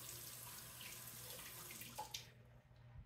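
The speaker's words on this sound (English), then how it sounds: "rinse our knife off" Kitchen tap water splashing while a knife is rinsed, a faint steady hiss of running water that stops abruptly near the end.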